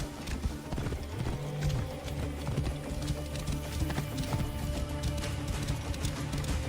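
Horse hooves clip-clop steadily in Assassin's Creed Origins, a brisk rhythmic trot with low game music and ambient sound underneath, moderately loud and close throughout.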